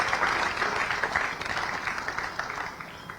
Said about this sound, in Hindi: एक बार जोरदार ताली बजाकर हमारे मुख्य अतिथि मुख्यमंत्री जी का स्वागत करें